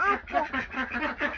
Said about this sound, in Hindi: ये एक बतख जो अंडे छोड़ के बाहर निकली है